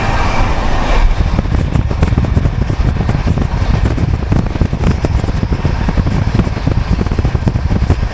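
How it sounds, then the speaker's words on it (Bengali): The 12303 Poorva Express passenger train speeds between Bardhaman and Durgapur, making a loud, continuous rumble and rattle of wheels and carriages that stays close and constant throughout. "ট্রেন কিন্তু খুব স্পিডেই চলছে।"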